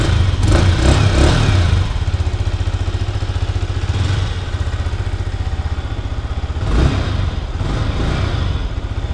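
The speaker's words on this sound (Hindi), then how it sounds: "थोड़ा सा रैप कर लेते हैं क्योंकि शोरूम में है बाइक" A Yamaha R15 V4 150cc motorcycle engine revs up loudly twice inside a showroom, idling with a steady rumble between the bursts of throttle, close by and with no voices.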